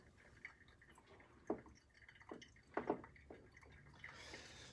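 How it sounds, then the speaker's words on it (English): Brewed Guatemalan coffee drips through a filter in a kitchen, a few soft, separate drops and light trickles spaced irregularly, faint and close with no talking. "Then we just let it drip through."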